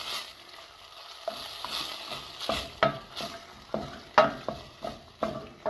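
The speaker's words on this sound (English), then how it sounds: "So I just let that simmer for a little bit." Coconut chickpea curry sits in a pot, and a spoon stirs it with a series of quiet scrapes and knocks over a low, soft bubbling sizzle.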